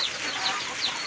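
Chickens clucking in a steady background chorus, with a few brighter calls popping out over constant farmyard noise.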